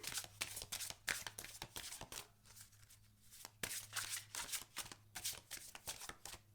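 A deck of Angel Power Wisdom oracle cards is shuffled by hand in quick riffling bursts, soft papery flicks repeating in short clusters with a brief pause midway, close and quiet with no speech.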